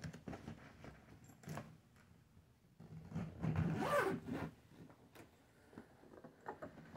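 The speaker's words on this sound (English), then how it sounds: "the other part where I unzipped it at, or zipped it back at" A zipper on a hard-shell Excelsior luggage case is pulled in quiet short strokes, with one longer rasping zip in the middle and light handling clicks around it.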